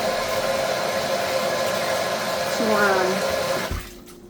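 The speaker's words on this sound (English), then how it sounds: "Grandma is washing her hands to prepare" Tap water runs steadily as an elderly woman washes her hands, a constant close rush that ends abruptly when the tap shuts off, with faint talk partly under it.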